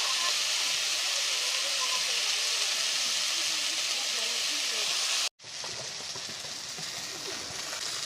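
Mango pieces sizzle in hot oil with a steady, close hiss, broken by a brief gap before the frying resumes slightly quieter as the pieces are stirred.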